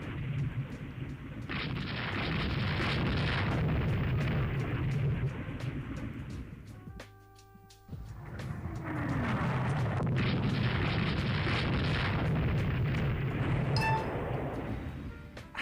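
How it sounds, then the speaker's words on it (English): Loud roaring explosion rumble from a torpedo striking a ship in the naval game Rule the Waves 3, two long sustained booming bursts separated by a brief lull, with a faint clink near the end. "How have we been hit by a torpedo?"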